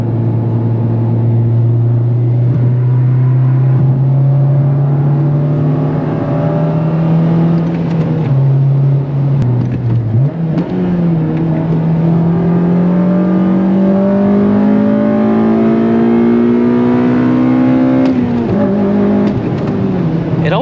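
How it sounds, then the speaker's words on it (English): An 8th-generation Honda Civic Si engine runs loud and close with a steady drone, rising in pitch under acceleration, dipping with a brief stutter around a hard shift from third to fourth gear, then climbing again. "It always does that when I shift from 3rd to 4th really hard."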